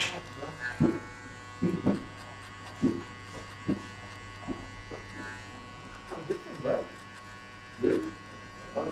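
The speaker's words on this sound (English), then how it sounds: "Next step with the clipper, level open, and just 1 centimeter." An electric hair clipper set with the lever open and a 1 cm guard buzzes in short repeated passes during a burst fade haircut, with a steady hum underneath and someone talking over it throughout.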